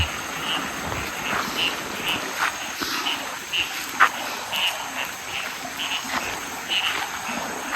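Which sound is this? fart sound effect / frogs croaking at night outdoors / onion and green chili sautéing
frogs croaking at night outdoors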